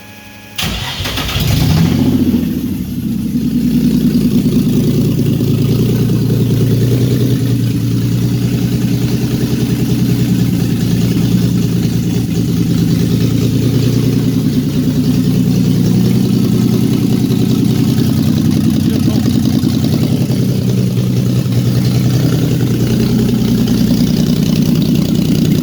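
A Nissan VQ35DE V6 swapped into a Datsun 260Z cranks and catches, then settles into a loud, steady, throaty idle close by for the rest of the clip, with no talking.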